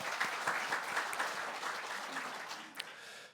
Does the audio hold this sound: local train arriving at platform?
no